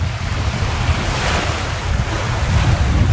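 Wind blowing about 20 knots at sea off Masthead Island on a sailing boat, a loud, constant rush of gusts and wave wash buffeting the microphone.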